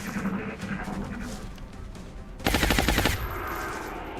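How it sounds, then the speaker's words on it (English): Automatic gunfire in the strategy video game XCOM Long War, a dense rattling burst of shots lasting under a second over a steady background of game ambience. "I feel like I need these shots from Marcus Joy, so I'm going to actually reload as opposed to Overwatch"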